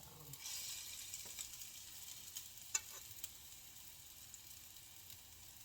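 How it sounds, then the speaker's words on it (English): A soft, steady sizzle of turkey meatballs frying in a pan, with a few faint pops and light clicks scattered through. "listen to that sizzle"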